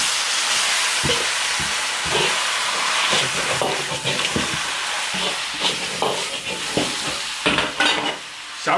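Pork belly sizzles in hot clean oil in an iron wok with ginger, scallion, spices, Sichuan peppercorns and chillies, a steady close crackle broken by repeated scraping clatters of stirring.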